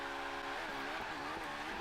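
A car in the Forza Horizon 3 racing game brakes hard, with a loud, steady engine drone and a rising tire squeal over less than two seconds.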